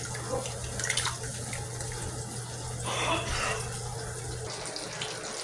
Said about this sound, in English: I'm going to put the corn with water in there